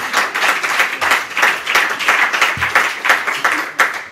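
Audience applause at a literary reading event, a steady patter of many hands clapping at close range that continues throughout without pause.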